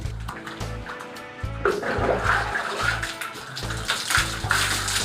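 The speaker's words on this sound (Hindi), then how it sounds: "गर्म पानी से नहाना हो गर्म पानी से नहाता हूँ, ठंडे पानी से नहाना हो ठंडे पानी से नहाता हूँ।" Water running and splashing while someone bathes indoors, a steady wash of water that grows fuller midway, with a low repeated thumping pulse underneath.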